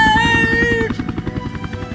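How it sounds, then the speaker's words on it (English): A helicopter flies in close and sets down, a loud rhythmic rotor chop pulsing steadily after a brief tonal opening. "All right, guys, bring in the chopper. Little closer. Bring it down now."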